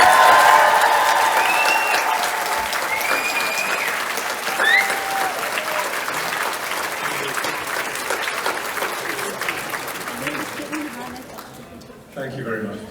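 A theatre audience breaks into loud, sustained applause and cheering that fills the hall, a dense wash of clapping with whoops on top, slowly thinning toward the end before a final burst.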